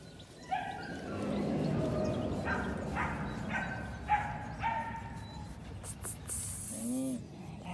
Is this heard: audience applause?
no